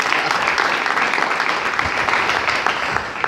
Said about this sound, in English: We will give them a big clap in absentia.